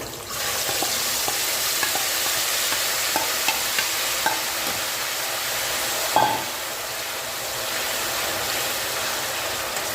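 Ground curry leaf and mint thokku paste is stirred through bubbling oil, a dense continuous sizzle with scattered scraping ticks from the spoon and one sharper knock partway through, with no voices.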